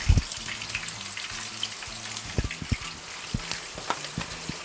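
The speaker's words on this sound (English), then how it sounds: "naturally sweet home fried potato recipe" Sweet potatoes fry in hot oil for a home-fried potato gari dish, giving a steady soft sizzle and crackle with scattered small pops throughout.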